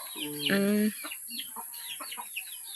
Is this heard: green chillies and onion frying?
no